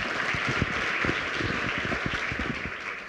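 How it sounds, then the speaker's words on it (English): A crowd at a start-up competition finale claps for a presenting company, a dense, sustained patter of many hands heard fairly close and holding steady for a few seconds before easing slightly. "give a round of applause for Actalivi"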